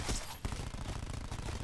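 Rapid gunfire from a cordite weapon in the video game Black Ops 4, a dense, continuous burst of shots played loud and close with no pauses.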